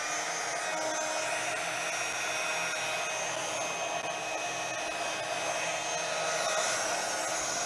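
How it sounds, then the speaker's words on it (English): A heat tool blows steadily on foundry wax while crafting a toilet paper card, a continuous close airy whoosh like a hair dryer, unbroken and alone throughout. "I'm going to heat that foundry wax up with my heat tool."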